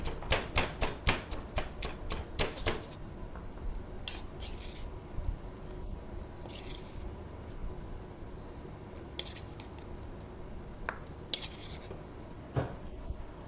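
Sharp, rapid pounding of garlic and pepper in a mortar, dense at first then spacing out into irregular knocks and scrapes, close by with no talking.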